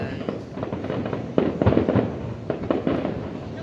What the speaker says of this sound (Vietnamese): Ở xa cách mấy cũng vẫn xem pháo hoa được ở Sài Gòn.